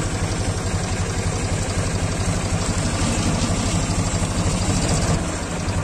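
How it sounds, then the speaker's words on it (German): A tractor engine labours steadily while ploughing a field, a continuous low, rhythmic throbbing chug at close range with no break in the sound. "Man merkt schon, der Traktor muss schon gut schaffen."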